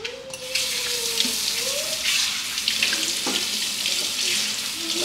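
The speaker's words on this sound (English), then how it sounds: "Firstly, let me wash my hands." A tap runs into a sink as someone washes their hands in a home kitchen, a steady, fairly loud rush of water with light splashing that shifts as the hands move.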